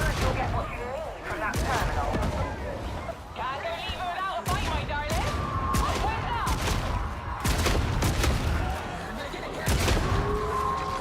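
Rapid bursts of gunfire from a shooter video game in an open match, sharp shots in quick clusters across the whole stretch, mixed with chattering game effects and voices.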